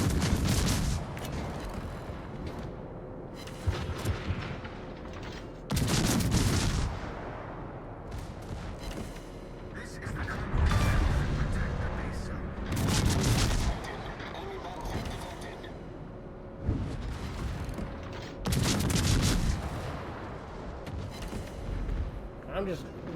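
Booming naval gunfire at enemy ships from the warship Bayard in a naval combat game, heavy salvos landing every few seconds amid engine rumble, with someone talking throughout.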